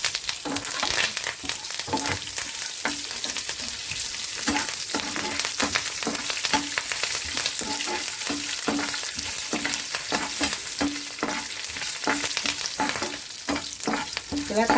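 Tempering of mustard seeds, dried red chillies and curry leaves fries in hot oil for a horse-gram rasam, a dense continuous sizzle and crackle up close with rhythmic scraping of a spoon stirring the pan.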